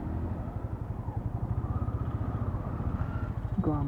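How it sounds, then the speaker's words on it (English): Exhaust of a Royal Enfield motorcycle, a low, even thumping pulse that runs steadily throughout, fairly close but modest in level, with a faint mechanical clatter near the end. "the exhaust noise of the typical Royal Enfield"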